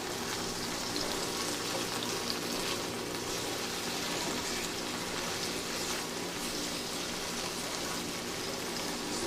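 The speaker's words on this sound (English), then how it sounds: "we're going to go ahead and saute that on up" Steak and onions sizzle and crackle in a hot pan for pepper steak, a dense, steady hiss that holds close and loud without pause.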